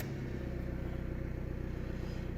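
A Ford Fusion engine idles steadily just after starting, a low, even rumble with a regular pulsing throb that runs throughout at a constant, fairly loud level.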